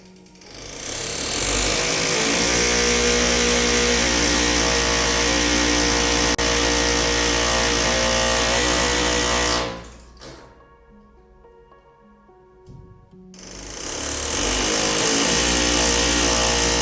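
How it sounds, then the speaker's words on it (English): Handheld mini jackhammers chatter loudly and continuously against cement, cutting out briefly before hammering resumes at full volume. "they have these little mini jackhammers they use in their hands"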